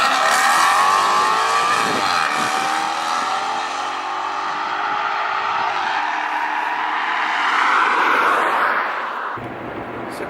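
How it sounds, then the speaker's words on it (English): Maserati GranTurismo engine running steadily while the car is driven, a loud continuous rising and falling drone with a brief revving swell near the end before it drops away. "I'm driving a Maserati GranTurismo."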